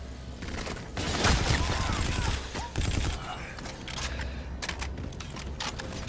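Gunfire in the video game Call of Duty Infinite Warfare rattles in dense, sustained fusillades over a few seconds, mixed with mechanical clicks and faint high electronic tones, with voices talking underneath.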